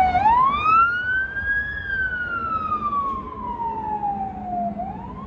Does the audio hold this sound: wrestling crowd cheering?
no